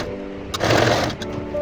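Sewing machine attaching blouse lining to the main fabric, a loud close burst of motor whir in the middle that rises and then eases off, with quieter machine hum before and after and no voices.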